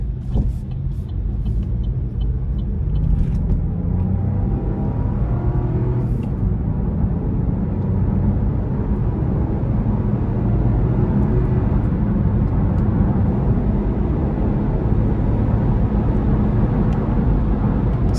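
A 2024 Buick Envista Avenir accelerates on the road, heard from inside as a steady, loud low engine and road drone that holds evenly throughout, with a faint wind hiss above.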